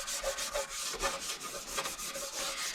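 Close, rhythmic back-and-forth scrubbing of the plastic case of a vintage Bell Colt valve radio with Jif abrasive cleaner, with steady strokes repeating about twice a second.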